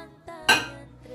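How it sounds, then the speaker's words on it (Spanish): A drinking glass is set inside a microwave oven, giving a soft knock followed by a sharper, bright clink of glass against the oven floor, close and alone with no talk. "Metemos el vaso en el microondas"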